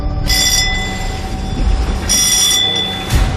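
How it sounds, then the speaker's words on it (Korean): The bell on an anchovy fishing boat rings in three loud, rattling bursts, each lasting about half a second, over a low engine rumble. "종이 울리면 잠깐의 휴식도 사라집니다."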